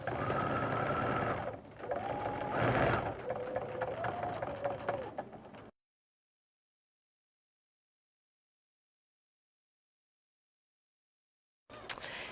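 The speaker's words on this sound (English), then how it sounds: "just do a little forward stitch and a little backward stitch, and close up that seam" A sewing machine stitches a quilt binding seam, running steadily for about six seconds with brief changes in speed. Then it goes silent for several seconds and starts again briefly at the end.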